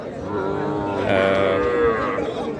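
At a busy rural cattle market for heifers and young bulls, a single cow lets out a long, loud, drawn-out moo close by over a low background murmur.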